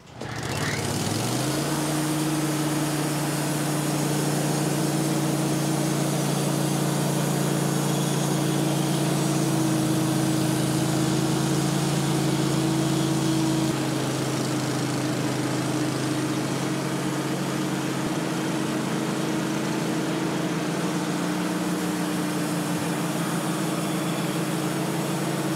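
A sawmill engine runs at a steady idle while a massive white oak log sits on the mill, a loud, constant droning hum lasting throughout with no talk over it.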